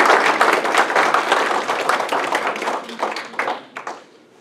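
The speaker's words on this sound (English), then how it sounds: "Graduates, I think you owe the parents and the spouses and everyone who supported you a round" A round of applause at a university master's hooding ceremony honouring graduates' families and supporters, with bright, close, dense clapping that starts at full strength and thins to a few last scattered claps near the end.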